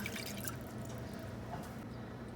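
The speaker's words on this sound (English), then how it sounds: "So for the sauce, you're gonna add 1 cup of water." Water for baklava syrup trickles and drips into a pot, a faint, quiet liquid patter lasting a couple of seconds with small splashy accents.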